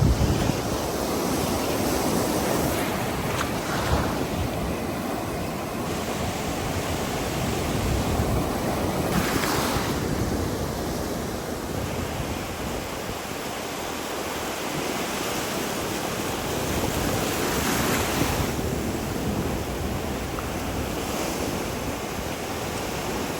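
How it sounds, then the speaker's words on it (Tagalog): Strong sea waves pound the shore in a constant, loud roar of surf, with heavier breakers crashing every few seconds and wind buffeting the microphone, and no voices heard. "Pakita ko sa inyo kung gaano kalakas talaga yung alon."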